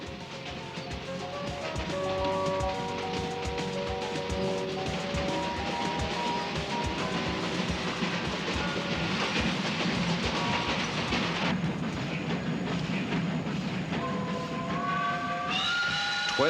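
Train rolling along an Indian meter-gauge line in Rajasthan, with a steady loud rumble of wheels on rail and clattering carriages, joined by sustained tonal whining and squealing notes from the running gear.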